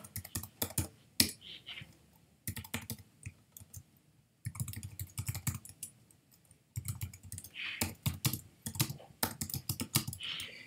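Fingers type on a computer keyboard while filling in an online order form, clicking out in quick bursts of keystrokes separated by short pauses, close and fairly clear with no talking.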